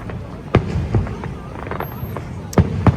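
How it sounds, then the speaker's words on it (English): Fireworks going off at Niagara Falls, heard as two or three sharp booms spaced over a few seconds above a steady murmur of crowd and ambient noise, with some voices nearby. "We have a fireworks show"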